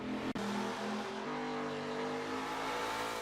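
A 1969 Pontiac GTO The Judge muscle car in the Forza 7 racing game, on the Road America circuit, drones with a loud, steady engine note after a brief cut, its pitch shifting as the car changes gears.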